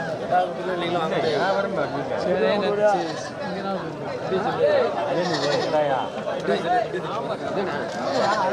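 Kanni goats bleat among a dense crowd at the Thiruvengadam goat market, their calls mixed into continuous people talking and chatter close by.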